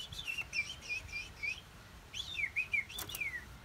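A scaly-breasted munia sings thin, high whistled notes in two short bursts of repeated chirps, fairly quiet against a soft background.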